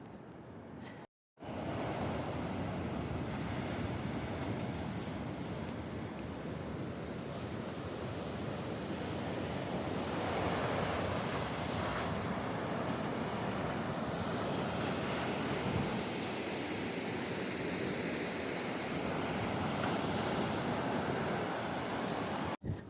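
Surf rolling onto a beach on Corfu, a steady broadband wash of waves with wind buffeting the microphone, loud and continuous after a brief cut at the start, with no talking.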